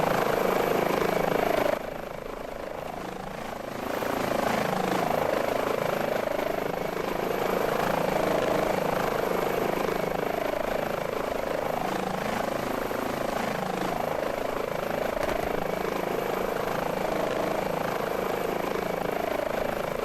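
An H145 helicopter in Microsoft Flight Simulator, with the steady rotor thrum and turbine whine droning continuously at a loud, even level after a brief dip near the start.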